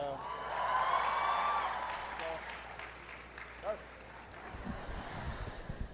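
A crowd of young people cheers and applauds as a speaker removes his jacket before taking questions at a public address, with a swell of clapping and whoops that fades into murmuring.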